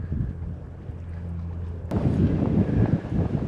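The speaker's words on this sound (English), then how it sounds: "I don't know what the wind sounds like on this audio." Gusty wind at a public fishing spot buffets the microphone, first a steady low rumble, then a sudden stronger blast about halfway through that roars loudly until the end, with no talking.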